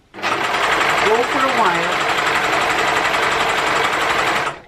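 A serger sewing machine runs continuously for several seconds, a loud, even high-speed whir of stitching through threads, with a brief spoken voice over it.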